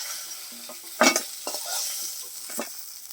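Fish fries in hot oil with a soft continuous sizzle, broken by a couple of brief clattering utensil knocks as the pieces are handled.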